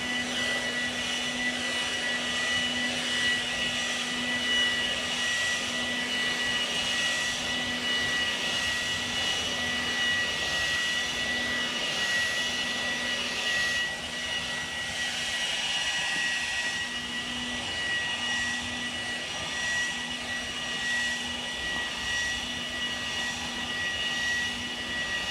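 A PATOOLIO 20V cordless electric leaf blower, 630 CFM and 160 MPH with a 4000mAh battery, runs outdoors at a house in a steady, loud, unbroken whine with a constant pitch and no pauses.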